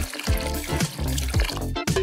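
A doll is dipped and sloshed in old bath water, giving splashy liquid gurgles and a few drips in quick succession, loud and close.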